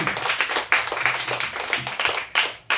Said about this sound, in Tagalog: Isang malakas na palakpak po para sa ating Panginoon.